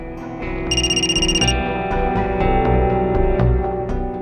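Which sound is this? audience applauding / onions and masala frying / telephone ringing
telephone ringing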